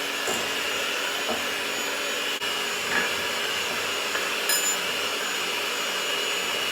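Eggs beaten into a creamy batter for an Italian cake with what sounds like an electric mixer, a steady loud whirring drone running throughout, with a few faint clicks and knocks of the beaters against the bowl.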